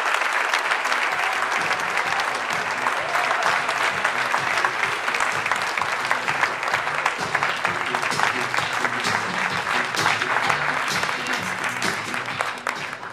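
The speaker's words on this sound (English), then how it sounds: "Everyone stand up real quick and give this guy a warm round of applause." Sustained audience applause at a real estate conference, a dense, steady clatter of many hands that fills the room for the full duration without letting up and fades slightly only at the very end.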